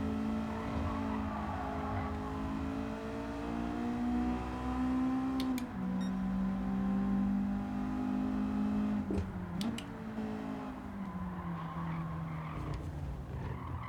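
Engine of a racing car in Gran Turismo 7 holds a steady, loud drone with gear-shift dips and tire skids, running continuously throughout the lap.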